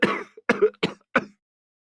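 Four separate coughs from one person in an English course recording, close and clear, with short gaps between them and no talking.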